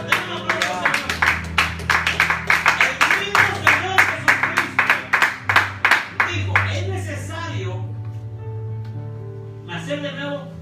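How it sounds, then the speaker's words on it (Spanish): Church congregation claps for the Lord during a Spanish-language sermon, a rhythmic run of sharp, evenly spaced claps over music for several seconds, then fading as a voice speaks, with a brief burst near the end. "den un aplauso al Señor"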